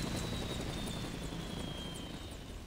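A helicopter in the video game Crisis Core: Final Fantasy VII drones steadily and loudly with a rapid rotor thrum and a high whine, holding constant with only a slight fade toward the end.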